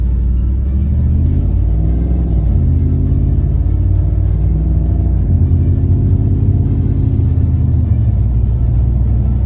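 A truck pulls away from a red light, its engine rumbling low and steady, then rising in pitch through a few gear changes as it gathers speed, loud and close with no talk.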